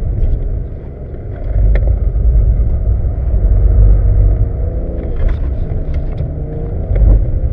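A drift car at the Lohéac circuit rumbles with a steady low engine drone throughout, swelling slightly mid-way, with faint wind buffeting and brief higher mechanical ticks.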